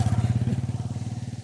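A motorcycle engine chugs steadily nearby on a foggy road, its rhythmic low pulsing thump continuing throughout without speech.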